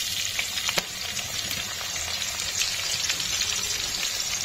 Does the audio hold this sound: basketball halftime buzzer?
no